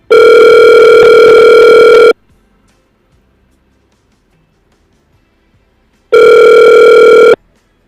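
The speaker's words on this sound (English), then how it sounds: "We hope Emmanuel answers the phone" Two long, loud ringback tones of an outgoing phone call, each lasting about two seconds, separated by roughly four seconds of near silence, steady and close.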